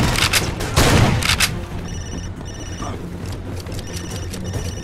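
Crossfire gunfire in Far Cry 2, a quick volley of sharp shots at the start, then a quieter stretch with faint intermittent beeping tones in the background.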